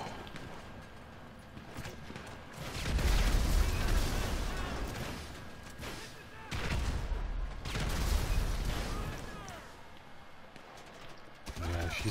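Bursts of heavy gunfire and booming blasts from GTA V Online swell and fade twice amid loud rumbling action sounds.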